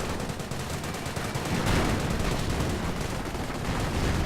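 Heavy gunfire and combat rage in a war strategy video game, with British infantry under fire as rapid machine-gun bursts and overlapping shots pour out in a dense, continuous barrage.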